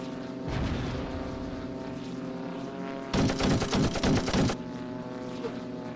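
In a mobile aviation combat video game, a steady propeller aircraft engine drone runs throughout, broken by two bursts of rapid machine-gun fire, a short one early and a louder sustained volley near the middle.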